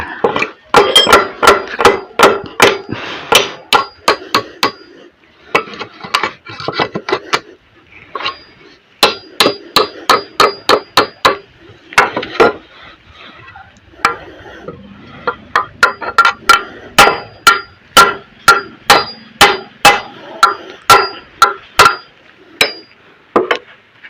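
A hammer works a three-inch nail out of wood with sharp metallic strikes, fired in rapid bursts separated by brief pauses, close and loud throughout.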